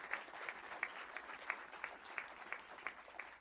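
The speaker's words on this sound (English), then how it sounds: "I know they clap for you" Dense, steady audience applause at an evening event honoring the Naval Academy baseball team, with sharp peaks rising from the clapping throughout and no speech over it.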